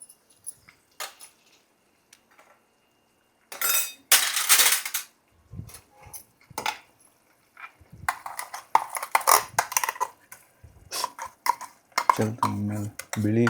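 A spoon and dishes clink and rattle in a home kitchen during preparation of fenugreek gojju, in scattered close bursts of metallic knocks with quiet gaps between them and a brief voice near the end.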